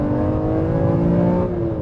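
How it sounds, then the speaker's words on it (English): A BMW E46 M3's S54 straight-six, 330 horsepower, holds a loud, steady high rev with a smooth, sustained tone throughout, alone with no voices. "straight six, 330 horsepower, an engine that loves to rev, loves to sing"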